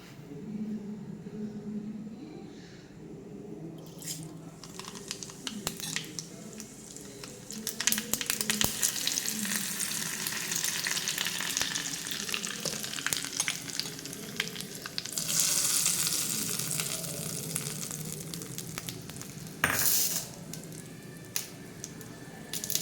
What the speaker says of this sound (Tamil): இதுக்கு ஒரு ஒரு சின்னதாக ஒரு தாளிப்பு ஒன்று கொடுத்துடலாம்